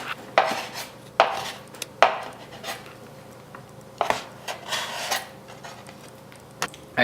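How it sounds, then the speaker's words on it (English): Bacon chopped with a knife on a board: a series of sharp, close cutting knocks and scrapes at an uneven rhythm, some louder than others, with no speech. "we're gonna chop up some bacon"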